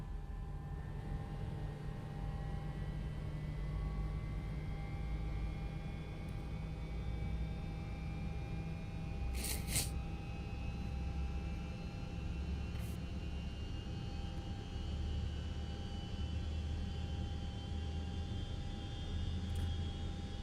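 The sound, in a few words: L1011 TriStar engine number 1 starting, flight simulator video game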